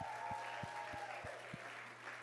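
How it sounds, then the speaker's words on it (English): Children's audience applauding at a kids' Sunday rally, a soft continuous patter of clapping with a few louder thumps, somewhat distant and steady. "Give her a round of applause"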